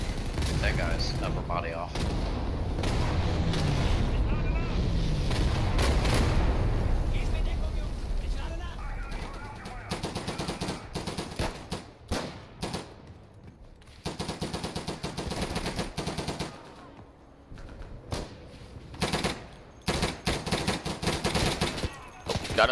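Machine gun fire in the WWII shooter game Day of Infamy, loud sustained bursts for the first several seconds, then sparser shots and game noise while players talk over it.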